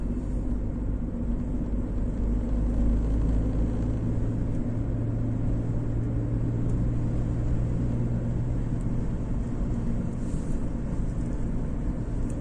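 A taxi in Lviv crawls through a traffic jam, a steady low engine and road rumble holding level throughout with no voices.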